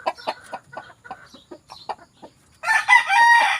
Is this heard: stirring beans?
no